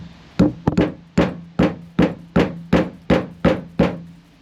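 A power steering part on a GU Nissan Patrol RD28 is tapped into place through a socket, giving about ten sharp, evenly spaced knocks close by, each with a short ringing decay.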